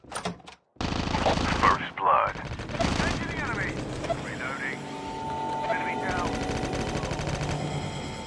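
AK-47 gunfire in the mobile shooter Call of Duty Mobile: rapid automatic bursts and sharp shots crackle through a busy game mix, with someone talking excitedly over the action.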